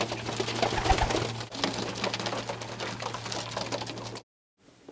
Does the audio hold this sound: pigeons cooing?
yes